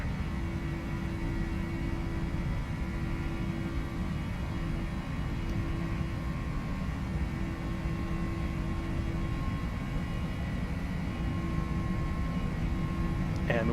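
Boeing 737 engines rolling for takeoff in the PMDG flight simulator, a steady loud jet roar with a constant droning hum throughout and no change in level.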